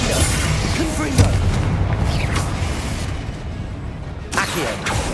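Confringo blasting spell from Hogwarts Legacy exploding amid combat in a secret catacomb, a deep boom with crackling debris over constant low rumble, followed by further sharp impacts near the end.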